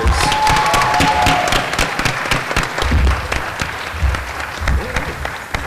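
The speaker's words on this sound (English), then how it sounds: "let's give one more round of applause for these fantastic speakers" A live audience gives a round of applause for debate speakers at the close of a political event, a dense, continuous wash of many hands clapping that stays loud throughout, with occasional voices mixed in.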